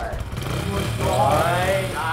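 A person's voice imitates a motorcycle engine in a steady, buzzing drone during a sound-guessing challenge game, close and fairly loud.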